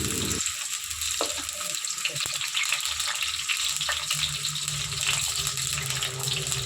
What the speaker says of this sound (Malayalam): നേരിട്ട് നമ്മൾ അരിഞ്ഞു വെച്ചിരിക്കുന്ന വെളുത്തുള്ളി ഇഞ്ചിയെല്ലാം നമുക്ക് ഇതിലേക്ക് ചേർത്ത് കൊടുത്തൊന്ന് വഴറ്റിയെടുക്കണം